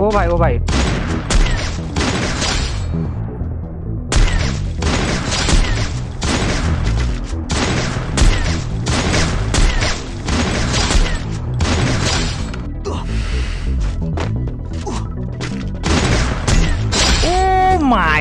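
Sniper rifle shots crack loudly and repeatedly during PC shooter gameplay, sharp bursts spaced a second or two apart with game sounds and a voice in between.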